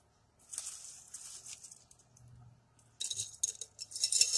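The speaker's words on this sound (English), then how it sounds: "I'm going to let you hear what they sound like when they're going into this glass jar" Dried, dehydrated beans clinking and pattering into a glass jar in two bursts, bright rattling clicks separated by a quieter pause.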